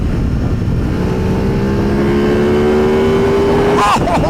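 A brand new motorcycle engine with quick shifter and auto blip revs hard and loud up through a rising whine, then cuts sharply as a gear changes near the end, heard close with steady wind roar.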